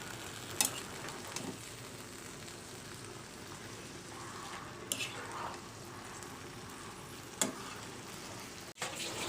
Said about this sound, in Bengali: তো চিংড়ি মাছটা আগে ভেজে নিলাম।